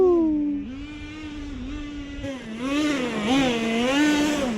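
A 12-year-old gas-powered Traxxas TMAXX RC truck revs its small two-stroke engine in snowy, icy conditions, a buzzing whine that rises and falls continuously, growing louder and more frantic with throttle bursts toward the end.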